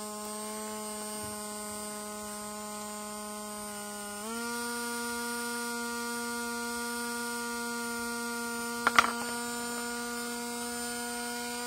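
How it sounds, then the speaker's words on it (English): A small electric motor for a free-flight model, run from a supercapacitor through a volt regulator, whines at a steady pitch that steps up slightly partway through, with a brief click near the end. "So you can see that from the sound of the motor, it's fairly constant"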